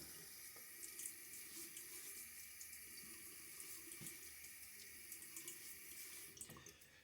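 Tap water runs steadily into a sink, wetting the face before a shave with a Gillette safety razor; a constant close splashing stream with no talking.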